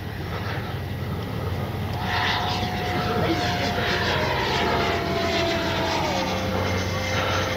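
Freewing JAS-39 Gripen 80mm RC jet in flight on its maiden outing, a loud continuous whooshing whine with a slowly shifting pitch that holds steady throughout.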